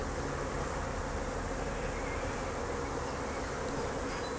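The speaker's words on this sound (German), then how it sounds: "Bienen sterzeln ein. Ja, sie fliegen sich neu ein." Dark Nordic honeybees (Apis mellifera mellifera) buzz steadily as a swarm settles and flies into a new leaf hive (Blätterstock), a dense, continuous drone close by with no voices.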